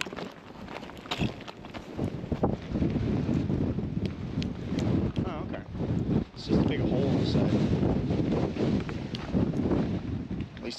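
Strong wind buffets the microphone continuously, a loud rumbling roar with gusts throughout.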